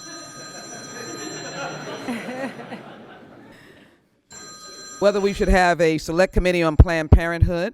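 A mobile phone rings with a steady electronic ringtone during a congressional town hall meeting, sounding under a woman's speech and then fading as louder talking takes over.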